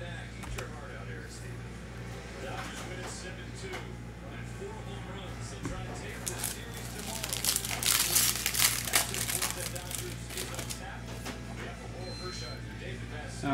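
A 2022 Panini Chronicles Baseball card pack is torn open and its wrapper crinkled up close, a burst of loud crackling midway over quieter rustling and a steady background hum.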